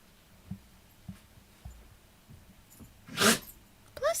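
A single sharp sneeze erupts close by near the end, preceded by a few soft low thumps and quiet room hum.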